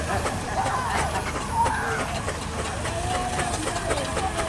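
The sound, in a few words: steam traction engine running in show arena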